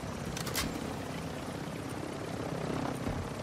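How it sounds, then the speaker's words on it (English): A helicopter in the Warzone 2.0 video game drones steadily with a low rotor throb, moderately quiet and continuous, with no talk over it. "There's a heli coming, and there's people on top of it already."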